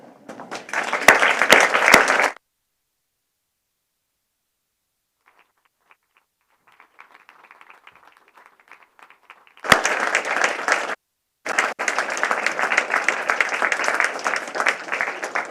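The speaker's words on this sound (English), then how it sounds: "So if I can invite you to stand up, please, and applaud your family," Graduates and guests at a Royal College of Surgeons diplomates ceremony applauding family and supporters, with a brief burst of clapping, a near-silent gap with faint rustling, then a fuller round of sustained applause.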